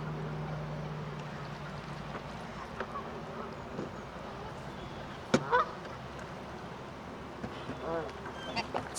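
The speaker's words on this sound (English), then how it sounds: "Do I see geese or do I see geese?" Geese honk faintly at a distance outdoors, scattered calls over low rumbling background noise, with a few sharper louder honks near the middle and end.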